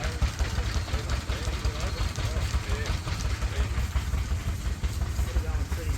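A 1950 Renault tractor, French-built, idles at a restoration club display in Pimpama, Queensland, a steady low chugging putter under nearby voices and crowd chatter.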